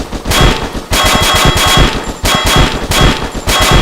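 Banana gun firing in a video game, loud, rapid automatic bursts of gunfire in several close volleys with brief gaps between them.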